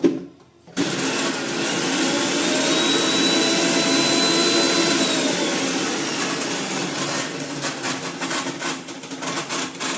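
A kitchen mixer grinder whirs loudly and continuously while grinding dried red and green chillies into a coarse powder, starting abruptly after a brief pause, then slowing and rattling toward the end.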